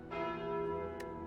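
A church bell tolls once with a sustained, shimmering ring that hangs and slowly decays; it is the chime of the Curse of the Bell card in the video game Slay the Spire.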